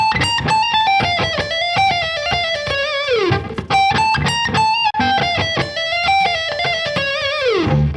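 An electric guitar plays a fast lick through heavy distortion, a bright sustained melodic run with bends and quick picked notes, loud and alone for about eight seconds.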